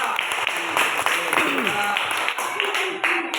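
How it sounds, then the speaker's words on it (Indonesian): Applause from a group at a classroom session, steady clapping over chatter and voices, moderately loud and continuous. "Oke, tepuk tangan untuk kita."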